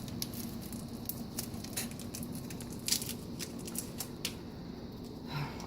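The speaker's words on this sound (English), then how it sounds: "just unwrapping these little cubes is one of them" Small soup stock cubes being unwrapped from their foil-like wrappers, quiet close crinkling and soft scratchy rustles in irregular bursts against a faint background hum.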